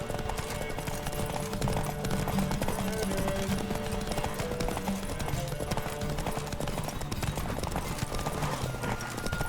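Rapid hoofbeats of a galloping horse pound steadily under game music and ambience in The Witcher 3, with brief snorts, loud and continuous.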